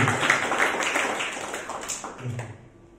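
Church congregation applauding during a worship service, a dense patter of many hands clapping that swells at first, eases and then fades out over about three seconds.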